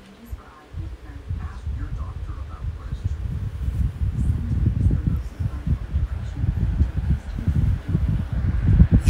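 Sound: 12-inch drum fan running at full power

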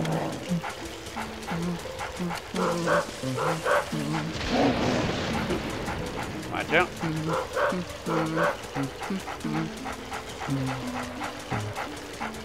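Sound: dog barking in the video game Luigi's Mansion

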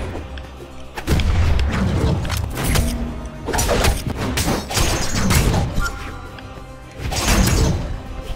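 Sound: bomb explosion in the video game Brawlhalla

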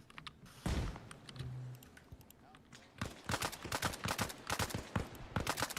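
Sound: gunfire in video game Arma Reforger

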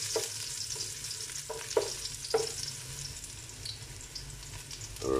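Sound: garlic frying in cooking oil

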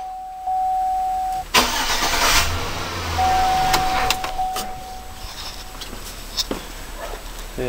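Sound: Chevrolet Silverado truck engine cranking and starting

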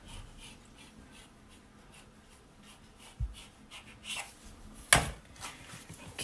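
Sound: knife cutting homemade filo pastry into parts

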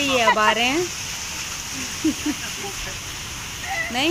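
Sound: heavy rain falling

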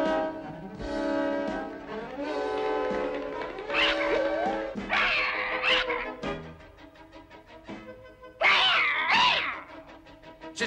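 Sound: cartoon cat meowing

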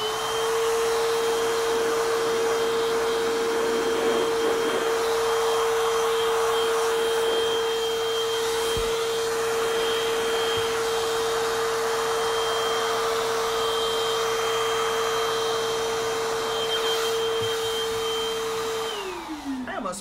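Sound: loud air blower blowing cool air

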